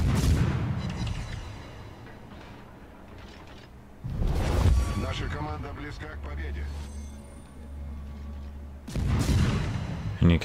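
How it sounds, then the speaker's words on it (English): World of Warships battleship main guns firing, three heavy booming salvos spaced several seconds apart, each with a long rumbling tail, while someone narrates over them. "Now firing on the other enemy battleship."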